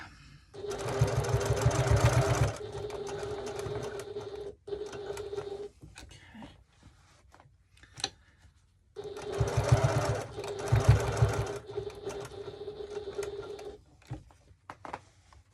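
A sewing machine zigzag stitching the strap of a 1941 gas mask bag whirs loudly in two long bursts, separated by quieter pauses with faint clicks and handling.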